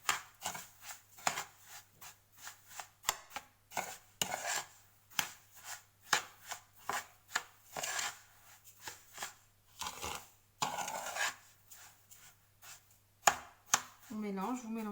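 Salted couscous semolina being mixed by hand, a series of close, dry rustling and rubbing scrapes in uneven bursts, with someone speaking between them.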